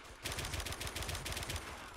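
Rapid automatic gunfire in a video game, a dense continuous burst of shots in fast rhythm, loud and close, with no voice over it.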